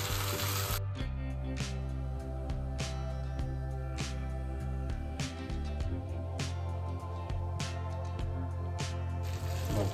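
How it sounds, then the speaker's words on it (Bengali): Mutton sizzles in oil in a pan while being stirred, a steady low frying hiss with regular sharp scraping strokes against the pan and a constant low hum underneath, no voices. "মাংসটা কষানো হয়ে এসছে, এখন তেল ছেড়ে আসছে"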